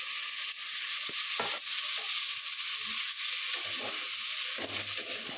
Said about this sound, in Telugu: ఇవి కూడా కొంచెం పచ్చి వాసన పోయేదాకా వేయించుకుందాము.